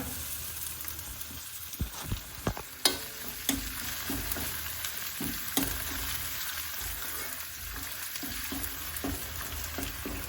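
Steady sizzling of ginger frying in hot oil for a tempering for mustard greens, with occasional scrapes and taps of a spoon stirring the pan, close up and continuous.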